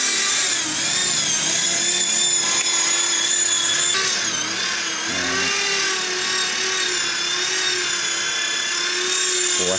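Floor smoothing machine running steadily throughout, a loud continuous high-pitched whine with a low motor hum, close by and without speech.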